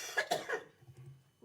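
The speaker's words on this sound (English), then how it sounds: "when everybody's finished coughing and sneezing" Several sharp coughs in quick succession echo through a county commissioners' meeting room, fairly close, then fade into quiet room tone.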